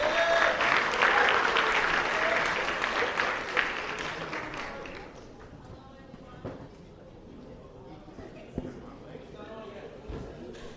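An audience at a student council presidential debate claps loudly, the applause swelling early, then thinning to scattered claps and room noise with some talk.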